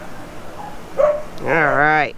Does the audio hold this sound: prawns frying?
no